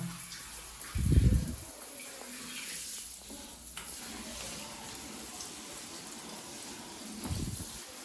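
Water runs into a bathtub while dirt-clogged suitcase wheels are washed, a steady close hiss with a couple of louder low splashing bursts near the start and end.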